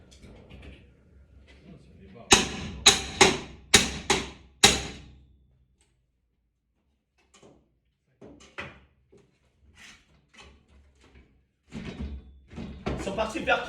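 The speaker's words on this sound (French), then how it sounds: "Ils sont en train de défoncer la porte." Several heavy thuds as a door is forced and broken down, coming in a quick series of loud blows, then sparser knocks while people talk nearby.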